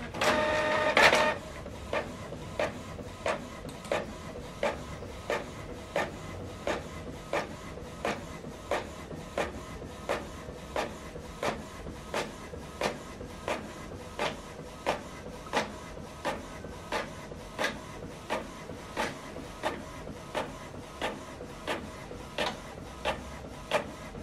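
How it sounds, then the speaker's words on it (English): Printer printing a document sent from a laptop, starting with a loud mechanical whir, then settling into a steady, evenly spaced clicking rhythm of the print head moving across the page. "You can see the document is printing out."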